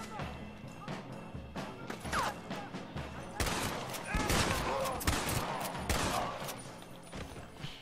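Red Dead Redemption gunfight with loud sharp gunshots in rapid clusters and crashing impacts, rising in density toward the middle, with game voices talking among the shots.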